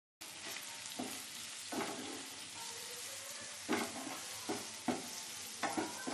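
Tomatoes cooking with salt, turmeric, coriander powder and amchur are stirred in a pan, a steady sizzle with scraping strokes of the spoon recurring every second or so.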